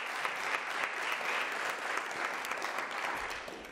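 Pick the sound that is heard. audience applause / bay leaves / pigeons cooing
audience applause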